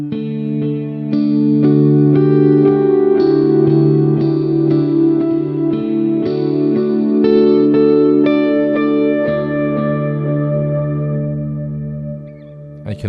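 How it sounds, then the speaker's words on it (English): Guitar from the Hemisphere library by Fracture Sounds played through an echo effect: sustained, shimmering chords with repeating delayed trails that ring on and thin out near the end, loud and alone. "Then you've got echo."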